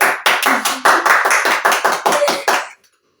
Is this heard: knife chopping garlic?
no